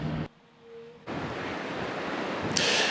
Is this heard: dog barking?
no